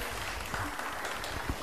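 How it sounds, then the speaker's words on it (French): An audience at a science demonstration of electromagnets applauds a volunteer, a brief, dense wash of clapping heard fairly close and filling the whole moment. "On peut l'applaudir encore une fois"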